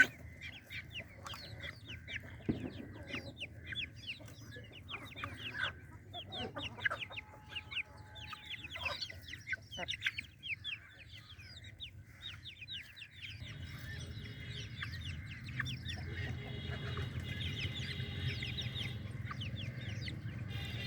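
Chickens and chicks cluck repeatedly in short, busy bursts while eating fly larvae, several birds close by, with a low rumbling hum rising in the background toward the end.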